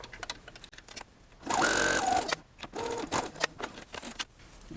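Close-up of a domestic sewing machine stitching a cloth face mask, with a burst of rapid mechanical whirring and clatter, a shorter second run, and light clicks and handling noises between.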